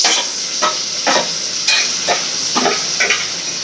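Onions frying and being stirred in a pan for a fish curry, a steady sizzle with repeated scraping strokes of the spoon every half second or so, close and alone with no talk.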